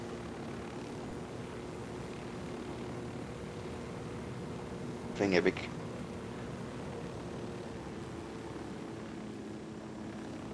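A helicopter flies in the video game Ghost Recon Wildlands, its rotor and engine making a steady drone throughout while a voice speaks briefly midway.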